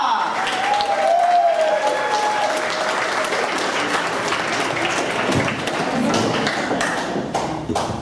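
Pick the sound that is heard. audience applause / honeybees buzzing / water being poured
audience applause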